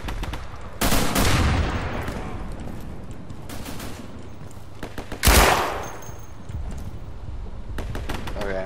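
Thompson submachine gun fire in the World War II shooter Day of Infamy, with bursts of automatic fire and sharp blasts sounding amid a chaotic battlefield, some shots near and loud, others farther off.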